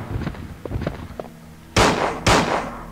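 Two loud, close gunshots ring out in Resident Evil 2, about half a second apart, each with a brief ringing decay. Softer footsteps and game noises come before them.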